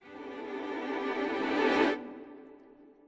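Abbey Road Two orchestral string samples from Studio 2, played as a single sustained chord that swells, then cuts off and leaves a long, smooth plate-reverb tail fading away.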